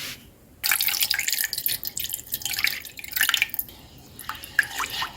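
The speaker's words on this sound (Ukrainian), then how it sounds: "А також додаємо грамів 100 водички." Boiled water, about 100 grams, is poured into a cooking pot of chicken stewed in wine, with vegetables and herbs, producing a bright, splashing trickle with a few drips and pauses, close up.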